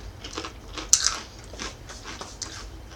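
Close-up crunching as a crisp Candysan savoury snack is bitten and chewed, a few sharp cracks followed by softer munching.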